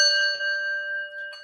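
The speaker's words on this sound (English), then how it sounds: "Let me ring the bell for you." A bell is rung once, and its clear, sustained ring with steady overtones fills the space and slowly fades, with a faint second tap near the end.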